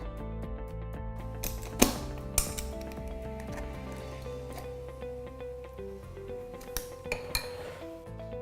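Banana ice cream and cookies stirred together in a bowl, with clinks and scrapes of a utensil against the bowl, a few sharper knocks and a soft steady hum behind them.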